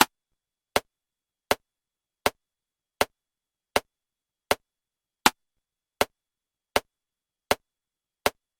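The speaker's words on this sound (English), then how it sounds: "7/4 timing, which sounds like this." A steady series of short, sharp clicks at an even pace, about twelve in all, crisp and isolated against silence, one slightly louder than the rest.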